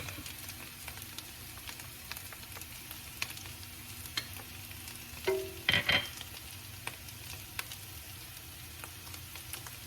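Minced garlic sizzling in a frying pan for a breakfast burrito, a steady low crackle throughout, with a brief louder clatter and scrape near the middle as it goes in, close and with no voices.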